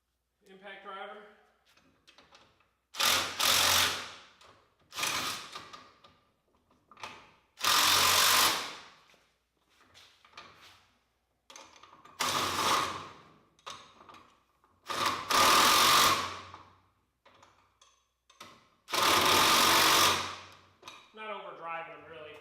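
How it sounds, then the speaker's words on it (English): A DeWalt impact driver running in repeated bursts of a few seconds each, loud and close with short pauses between, and someone speaking briefly at the start and end. "impact driver."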